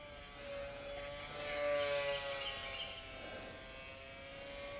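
Parkzone Micro Polecat RC plane flying at reduced speed, a faint, thin electric motor whine that holds steady and swells slightly, then eases off, heard from a distance.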